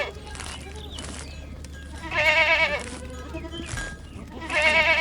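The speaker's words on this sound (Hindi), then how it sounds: "श्याम रोज बकरियों को लेकर पहाड़ी पर जाता," Goats on a hill let out loud, wavering bleats in two clear bursts, with fainter rustling and a quieter call between them.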